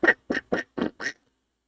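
A person mimics a duck, giving five short nasal quacks in a steady rhythm, close and clear, followed by silence.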